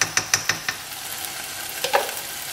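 Masala for a Goan prawn curry with green mango fries in oil in a pan, a steady close sizzle running throughout, punctuated by a quick series of sharp spoon scrapes and stirring clatters against the pan.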